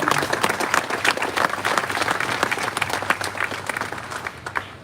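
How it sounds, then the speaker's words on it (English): A crowd at a memorial stair climb event applauds steadily for the sponsors, a dense and loud wash of clapping that holds throughout and tapers slightly at the end. "Big round of applause for all of our sponsors."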